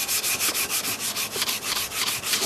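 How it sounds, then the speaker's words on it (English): Light hand sanding of a shop clock ahead of painting: steady, close rhythmic rubbing strokes, about a dozen even back-and-forth passes, with no voices. "Anytime you're gonna freaking put paint on something, you should give it a little bit of a light sanding"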